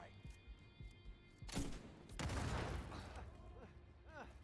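Hand cannon firing in a first-person shooter game, a few sharp booming shots with a dense crackling burst in the middle, set amid faint game sounds and brief voice chatter.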